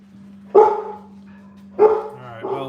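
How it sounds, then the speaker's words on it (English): A female dog barks at someone in a backyard: two sharp, loud barks about a second apart, then a softer third, over a low steady hum. "she's barking at somebody in the backyard"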